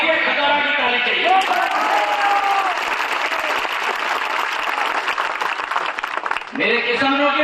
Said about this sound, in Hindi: खतौरा की ताली चाहिए